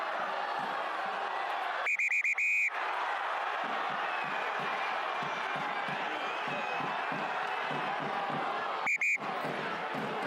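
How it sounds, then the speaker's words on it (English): At a Top 14 rugby match between Montpellier and Toulouse, the referee blows sharp whistle bursts, one cluster early and a shorter one near the end. They rise clearly over a steady murmur of the stadium crowd. "Referee Jonathan Gassier blowing his whistle, trying to calm things."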